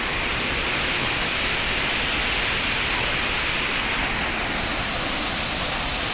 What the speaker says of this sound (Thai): น้ำตกตัดเนียงอยู่ทางมาปักซอง น้ำตกตัดเนียงเดี๋ยวจะให้เบิ่งบรรยากาศรอบ